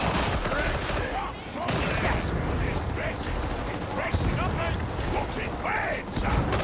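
Gunfire in the video game Warhammer 40,000: Darktide: dense, continuous bursts of weapon fire and mechanical clatter fill a loud, chaotic battle mix with no pauses.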